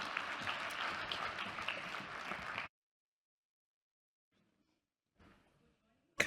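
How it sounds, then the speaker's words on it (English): A crowd applauds at a Reserve Bank panel event for about two and a half seconds, dense clapping that cuts off abruptly into silence, followed by a brief faint sound near the end. "Let's give her a warm round of applause as she introduces her panelists."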